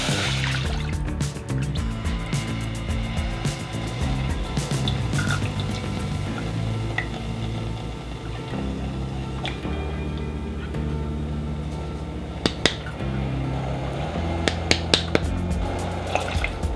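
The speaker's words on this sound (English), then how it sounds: "go ahead and add all of the ingredients except for the tofu and the Vita wheat gluten to a small pot" Liquid ingredients for a vegan ham broth are poured and added into a small pot in a kitchen, with steady trickling, sloshing and a few drips continuing over background music.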